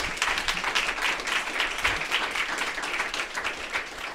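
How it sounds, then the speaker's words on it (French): An audience at a university entrepreneurship conference applauds, dense and steady clapping from a crowd holding at an even level for the whole stretch. "une ronde d'applaudissements pour vous,"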